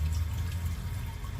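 Water rushes steadily into the tank of a 1953 Kohler Trylon toilet as it refills, a close, continuous low gurgling fill.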